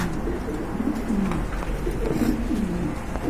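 A pair of pigeons at a bird market giving soft, low, repeated coos close by over a steady background murmur.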